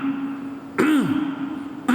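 A man gives a deliberate throat-clearing "ahem," a short voiced grunt sliding down in pitch, followed by a second brief one near the end over a steady low hum.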